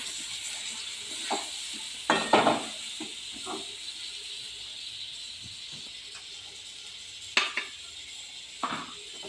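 Turmeric and chilli powder stirred into ghugni in a pan: a faint, low sizzle in the background, with a few clusters of spoon scrapes and clinks against the metal.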